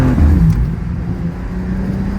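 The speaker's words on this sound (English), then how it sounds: "Do a quick little burnout for the one time." A BMW G87 M2 engine holds a steady, loud low drone through a short burnout, the note easing slightly after the opening half second and then staying constant with no voices.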